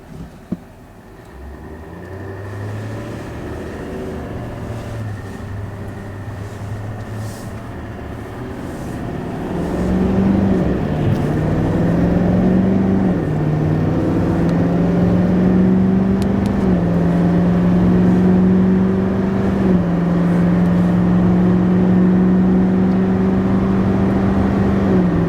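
A diesel 2023 GMC Sierra 3500 AT4 pickup accelerating while towing a big fifth-wheel trailer, heard from inside as a steady engine drone that swells louder about halfway through and climbs in stepped pitch rises like gear shifts.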